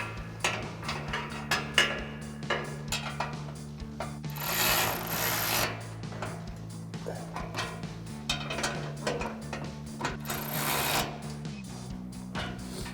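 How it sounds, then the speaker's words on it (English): A ratchet with an 18 mm socket clicks in quick, rapid runs while bull bar mounting hardware on a Runner Barricade 3-inch bull bar is tightened, with short pauses and a low steady hum underneath. "we'll go ahead and tighten down this hardware with our 18 mil socket on our ratchet and an 18 millimeter wrench"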